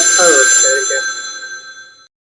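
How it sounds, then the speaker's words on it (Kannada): A mobile phone ringtone chimes loudly and steadily as a sustained tonal melody for about two seconds, then cuts off abruptly into silence, with a voice briefly audible under it. "ಅಮ್ಮ ಎದಕ್ ಫೋನ್ ಮಾಡ್ತಿದ್ದಪ್ಪ ಈಗ?"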